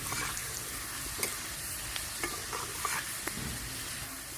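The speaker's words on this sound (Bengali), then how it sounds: "কিছুটা সময় রসুন আর জিরে আমি ভেজে নিয়েছি" Garlic and cumin sizzle softly in a wok over a low flame. The frying is continuous and even, broken by light taps and scrapes from stirring, with no voices.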